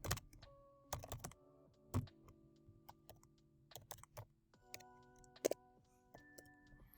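Rapid, close computer-keyboard typing as a name and email address are entered, irregular bursts of crisp key clicks with short pauses between, quiet and alone.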